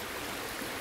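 A river stream rushes steadily beside a campsite, a dense, even wash of flowing water, close and continuous with no voices.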